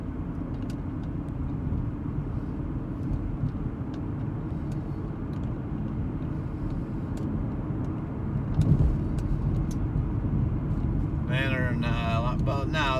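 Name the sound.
car driving on a residential road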